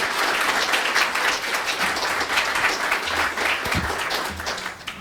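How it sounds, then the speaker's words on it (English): Conference audience at a digital preservation event applauding steadily for about five seconds, a dense, sustained wash of clapping with a few low thumps near the end. "One last round of applause."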